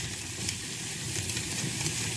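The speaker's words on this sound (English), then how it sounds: "And now I'm just going to cook the beef down." Ground beef sizzling in a pan with onion and garlic gives a steady, close frying hiss that runs evenly throughout, with no voices.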